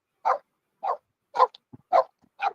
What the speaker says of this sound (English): Oh, the dog's gonna come attack me, Christina.